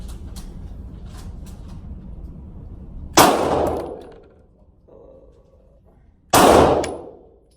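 Two loud pistol shots from a Sig Sauer P320RX Compact, each with a metallic ring fading after it, several seconds apart outdoors, with a faint clink between them.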